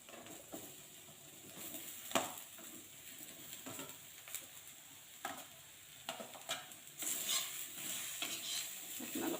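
A jackfruit curry sizzles as it fries in a pan. A utensil scrapes and stirs it in irregular bursts, and the frying gets brighter and louder toward the end.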